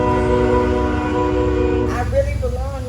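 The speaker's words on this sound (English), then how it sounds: "And that's the train." A train passes close to a small podcast venue, its steady low rumble and rail noise running under and after ongoing conversation, with a brief squealing tone near the end.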